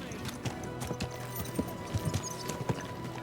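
Rhythmic clip-clop of horse hooves at a walking pace in the video game Kingdom Come: Deliverance II, fairly close, over a busy background with faint voices.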